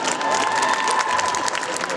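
Audience at a Japanese pop culture show contest in Mons applauding and cheering loudly for departing performers, a dense steady wash of clapping with crowd noise throughout.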